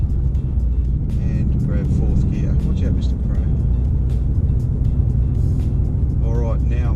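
A 2017 Ford Mustang GT with a manual gearbox pulls in fourth gear after a clutch shift, its engine a loud, steady, close drone that lasts throughout while someone talks over it.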